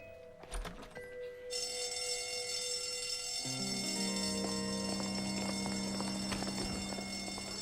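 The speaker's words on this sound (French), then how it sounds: "L'alarme incendie." A fire alarm rings steadily and loudly. Brief knocking and rustling come just before it starts.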